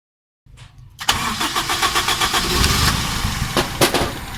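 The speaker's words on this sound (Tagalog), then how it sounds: "ipapakita ko sa inyo kahit walang solenoid, daandar pa rin ang makina na yan" A carburetor car engine with its idle solenoid removed cranks briefly after a short silence, catches, and settles into a loud, steady, slightly uneven idle, heard close up with no talk.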